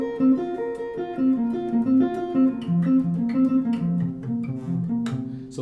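A clean jazz guitar plays a quartal harmony lick built on stacked fourths, a short melodic run of plucked notes and chordal figures with a warm tone, heard alone without any talking.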